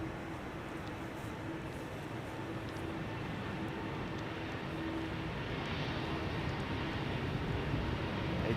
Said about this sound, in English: The engines you're hearing, connoisseurs among you will already have recognized A330